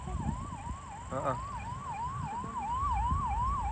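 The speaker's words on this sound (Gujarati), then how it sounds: "જો વાહનો જાય એમ્બ્યુલન્સ જાય" An ambulance siren wails along an outdoor road with a steady rising-and-falling tone, fairly clear over wind and traffic rumble, while someone briefly speaks.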